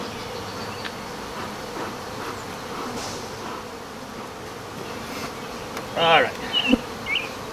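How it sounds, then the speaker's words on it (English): A honeybee buzzes loudly close by during a hive inspection at a yellow hive, a steady drone with sharper bursts near the end, and a person speaks briefly. "This here bee is really looking to get to me."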